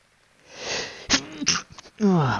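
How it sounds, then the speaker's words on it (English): A person sneezes once up close, with an audible inhaling buildup, a sharp burst, and a short voiced follow-up. "A bit of a sneeze there, sorry guys."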